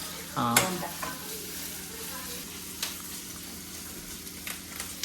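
Mutton being stirred and roasted in a pan, a steady sizzle with scattered spatula scrapes and clinks; a brief voice sounds near the start.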